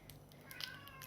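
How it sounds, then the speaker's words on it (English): A cat howls at a back door, one short drawn-out meowing cry rising in the middle of a brief quiet moment, faint and a little distant, with no talking. "that's a cat howling that has decided she doesn't know how to get through the back door"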